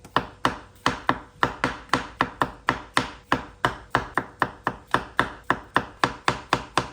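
Chestnut mushrooms, locally grown, being sliced with a knife on a board: a steady run of about twenty crisp, close chopping taps at an even brisk rhythm, with no talk.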